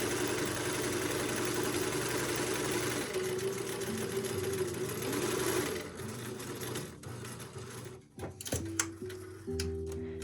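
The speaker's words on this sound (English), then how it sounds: "And you sew them at the bottom, just like you did the mask, the original." A sewing machine stitches a fabric face mask, running steadily at close range for about six seconds, then slowing into short stop-start bursts near the end.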